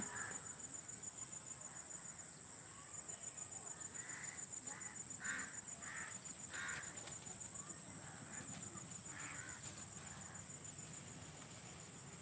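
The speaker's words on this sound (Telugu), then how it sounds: "ఇప్పుడే చేరుకుంటున్నాయి పక్షులన్నీ" Birds gathering near fields at sunset: distant crow caws scattered across a steady, high cricket drone, all faint and far off.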